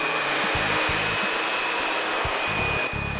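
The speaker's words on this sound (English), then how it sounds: "I need to get closer to the scalp with the blow dryer" A blow dryer roars steadily at close range as hair is dried with a small round brush near the scalp, a constant whine with soft brushing thumps beneath it.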